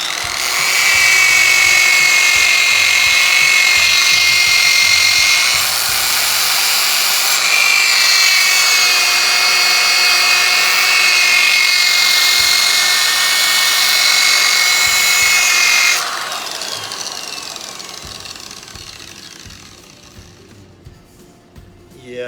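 A power sander works wood at 80 grit, a loud steady high whine with a sustained hiss that runs unbroken for most of the stretch, then cuts off and fades into quiet near the end.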